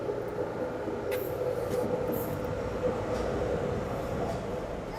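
A DLR light rail train runs through a lit tunnel toward Stratford International, giving a steady, fairly loud rumble and hiss from inside the car, with faint high wheel squeals and no talk.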